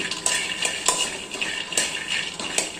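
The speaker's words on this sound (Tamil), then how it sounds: "இப்போ நம்ம வேர்க்கடலை வறுத்துக்கலாம்" Peanuts, roasted gram and other dry grains roasting in a pan for a health mix: light rattling and scraping as a spoon stirs them, with irregular metallic clinks against the pan.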